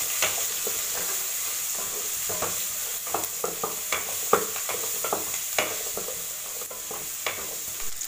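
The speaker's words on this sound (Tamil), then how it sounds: "நல்லா வதக்கி விட்டுக்கலாம்." Onion and garlic sauté in hot oil for a drumstick masala, a steady close sizzle broken by repeated scraping and stirring strokes of a spoon in the pan.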